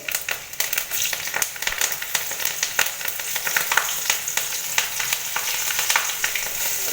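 Asafoetida, bay leaf and green chillies fry in hot oil for a doi katla curry, giving a steady, close sizzle dotted with sharp crackles and pops, plus a few stirring scrapes.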